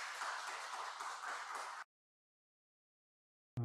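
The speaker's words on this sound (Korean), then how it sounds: "큰 박수로 환영해 주시기를 바랍니다" A church congregation at a Sunday service claps loudly to welcome a new accompanist, a dense burst of applause lasting under two seconds before cutting off abruptly into silence.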